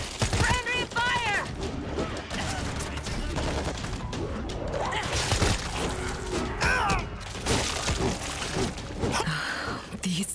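Dense gunfire bursts from the zombie shooter World War Z fill the scene, loud and continuous with crashes and shouts mixed in, while voices talk over the chaotic battle.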